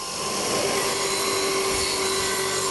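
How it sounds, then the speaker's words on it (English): A wire wheel on an angle grinder deburring metal edges gives a continuous high-pitched whine with a steady rough brushing hiss, close and loud throughout. "I'm just going over all the surfaces I can get to with a wire wheel in the grinder"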